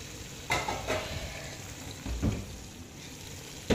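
Chicken for biryani frying in hot oil gives a soft, steady sizzle, with a few brief clinks and stirring scrapes of a pan breaking through at intervals.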